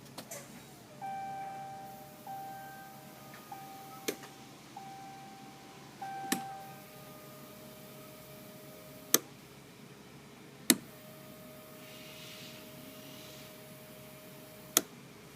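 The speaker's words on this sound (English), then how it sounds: "If you listen carefully, I'm going to turn the ignition on, and you can hear the fuel pump prime." A RAM EcoDiesel truck's fuel pump primes with the ignition on, a faint steady electric whine with a few soft beeps and sharp clicks over quiet background.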